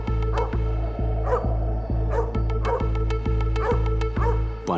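A dog barks repeatedly in a steady, evenly spaced rhythm close by, each bark sharp and loud over a constant low hum.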